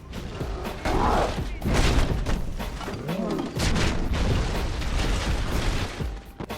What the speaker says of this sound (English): if you throw grenades at them, they will kind of glitch out, where they'll either turn their backs to you when the grenade explodes